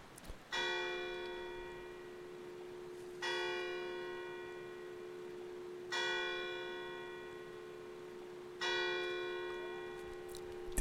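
A church bell tolls four times at an even, slow pace in Resident Evil 4, each strike ringing out clearly and decaying into a long humming resonance against quiet background ambience.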